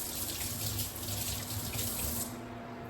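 A kitchen faucet runs steadily for a few seconds during hand washing at the sink, a close, even stream of water with no talking, tapering slightly near the end.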